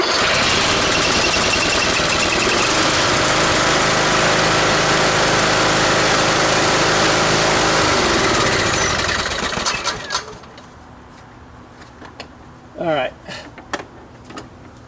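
Husqvarna YTH21K46 riding lawn tractor engine running loud and steady for about eight seconds, then winding down and cutting off, leaving quiet shop sounds and a few brief clanks.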